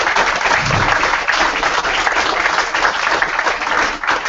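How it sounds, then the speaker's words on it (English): A room of football fans at a club squad number announcement gives a round of applause, a full, even clatter of clapping held throughout. "Please give a round of applause."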